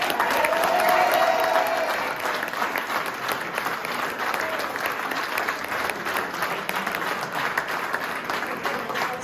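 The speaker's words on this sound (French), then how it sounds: "je vous demande de l'applaudir" Crowd at an election-results gathering in Aulnay-sous-Bois applauds steadily, a dense, sustained clapping that stays loud throughout and fades only slightly toward the end.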